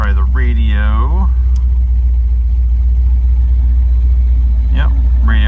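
A 1970 Dodge Challenger R/T SE with a 440 V-Code Six Pack idles at a steady low rumble, close and constant throughout, with someone speaking over it at the start and again near the end.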